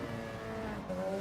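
A race car engine holding a steady, droning note in WRC GT Challenge at Trial Mountain, moderately loud and unbroken for a brief moment, with no talk over it.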